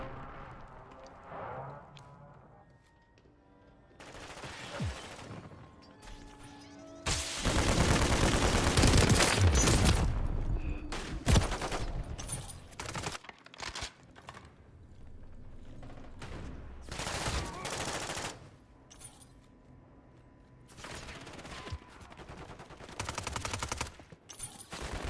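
Video game combat with an incoming airstrike, bursts of rapid automatic gunfire and heavy blasts in loud clusters separated by quieter mechanical clicks and gaps.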